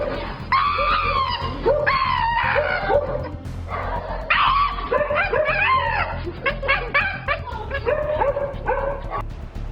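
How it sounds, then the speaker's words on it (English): A Shiba Inu dog lets out loud, high-pitched screaming yelps and wails in repeated bursts, close by, with a faint low hum beneath. "This is what dog owners call Shiba screaming"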